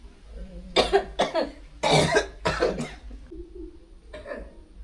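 A person coughs in a run of several harsh, close bursts, with a short pause and then another fainter cough, no other sound to speak of.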